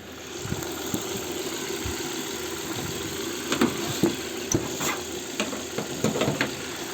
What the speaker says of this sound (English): You see the noise of the engine. It tells no problem